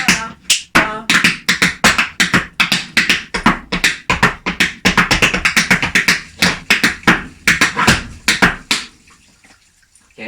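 Tap shoes strike a hard floor in a fast, crisp run of scuffs, steps and toe taps, each percussive click sharp and close, the rhythm pausing briefly before a few final quieter hits.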